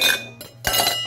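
Ice cubes dropped into a cocktail shaker while an amaretto Old Fashioned is made, two quick clinking clattering bursts, close and fairly loud.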